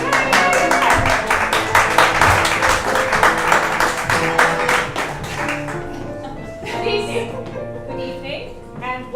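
The audience at an improv theater applauds loudly. The clapping is dense and lively for about five seconds, then fades as voices start talking.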